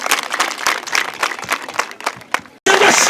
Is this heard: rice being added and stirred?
no